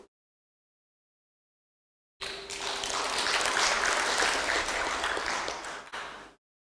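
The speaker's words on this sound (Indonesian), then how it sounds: "Jadi jangan tepuk tangan dulu Pak." Audience applause at an Indonesian gathering addressed by the Minister of Religious Affairs, about four seconds of steady, fairly loud clapping that begins abruptly after silence and stops suddenly.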